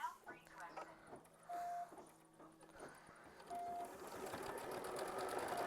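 A sewing machine tacks down a quilt block in short, steady runs of rapid needle stitching separated by brief pauses. It sounds close and fairly quiet, with faint speech in the background.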